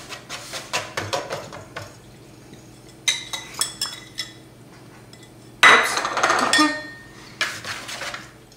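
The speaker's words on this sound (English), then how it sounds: "Use 2 knives or a pastry fork and cut the butter until the mixture looks like coarse crumbs or large peas" Metal knives clink and scrape against a bowl as butter cubes are cut into a flour, sugar, baking powder and salt mixture for strawberry shortcake, in irregular bursts of close, sharp taps with a longer scraping flurry near the end.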